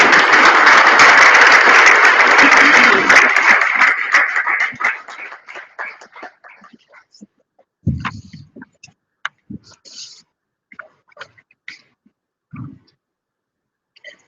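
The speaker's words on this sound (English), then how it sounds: "I request audience to please give a big round of applause." An audience at an inaugural function applauds the chief guest, a loud burst of clapping that thins out after a few seconds into scattered single claps and light knocks.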